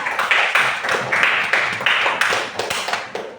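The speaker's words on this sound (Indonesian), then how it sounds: "tepuk tangan buat kelompok 3 Elsa." A school class claps together in bursts of applause, fairly close, with brief pauses between rounds and no talking.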